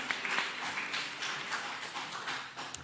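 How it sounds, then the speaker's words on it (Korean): A congregation applauds together in a Korean church during a Sunday sermon service, a dense, steady patter of many hands clapping that carries on for the whole stretch without pause. "하나님께 영광의 박수"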